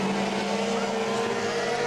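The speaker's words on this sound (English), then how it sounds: "the compressor kicks in when the cars are going by" Pure stock race cars roar past at Monadnock Speedway, a loud continuous engine drone that holds steady for the whole stretch, heard from close trackside.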